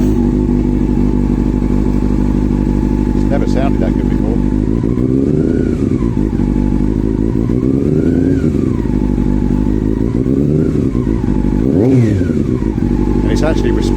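A Honda CB400 Super Four four-cylinder motorcycle engine runs steadily close by, with a few gentle revs rising and falling. Someone talks over it.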